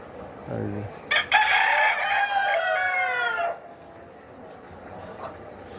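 Desi laying hens give a short cluck before a rooster crows loudly nearby in one long, drawn-out call, then the yard settles into faint background noise.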